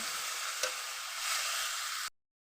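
Mixed vegetables seasoned with salt and turmeric fry in a pan. A steady close sizzle runs under one sharp stirring knock, then stops abruptly near the end, with no voices.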